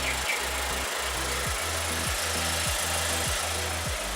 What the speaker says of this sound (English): this is the car in idle. It's not really that noisy